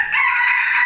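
A rooster crows once at a home with chickens, a short loud, sustained call heard alone and close by.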